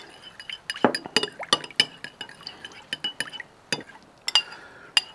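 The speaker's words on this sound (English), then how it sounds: "And just get you a spoon and mix it all together." A spoon mixes rice vinegar into hibachi sauce, clinking sharply and irregularly against a glass bowl, with quick bright taps and small scrapes close by.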